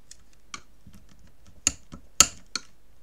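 Paper being folded and creased by hand for a handmade album, heard as a series of sharp, close crisp snaps and taps, a few louder ones spaced irregularly over a quiet background.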